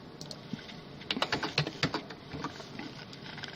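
Computer keyboard typing, entering a resolution value into a settings field: a cluster of quick, crisp key taps in the middle over faint room background, with a few lighter clicks around it.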